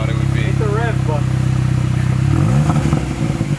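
An MK7 VW Golf GTI running with no exhaust fitted, its engine idling with a low, rough drone before a quick rev sweeps up and drops back, loud and close, with a voice talking over it.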